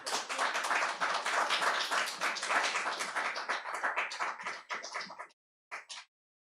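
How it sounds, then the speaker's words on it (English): An audience applauds after a poetry reading at an evening of international and translated poetry, a dense steady burst of many hands clapping that thins out and stops after about five seconds, with a last brief smattering. "Round of applause for Catherine, please."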